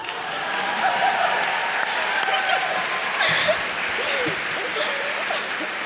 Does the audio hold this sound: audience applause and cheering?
yes